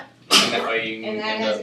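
A single sharp, loud sneeze bursts out abruptly, followed immediately by a person talking nearby.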